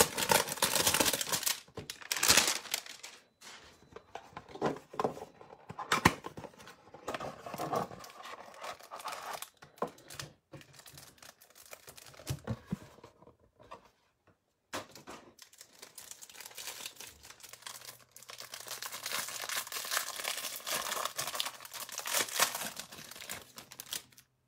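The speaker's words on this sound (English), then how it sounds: "Okay, in these hanger boxes, we'll just have one pack that contains 30 cards." A basketball trading card hanger box is opened and its pack wrapper torn, giving close, uneven bursts of crinkling and tearing plastic and cardboard handling, quiet and without talk.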